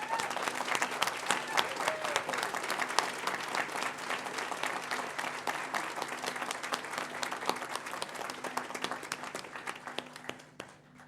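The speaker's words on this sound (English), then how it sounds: "Ladies and gentlemen, please honour them with your applause." Sustained audience applause for graduates at a university graduation ceremony, CQUniversity Noosa campus, a dense steady wash of many hands clapping for about ten seconds before tapering off at the end.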